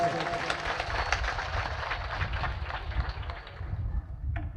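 Audience at a Mahadev temple consecration ceremony bursts into steady, dense applause, a loud continuous wash of many hands clapping that holds throughout before easing slightly near the end.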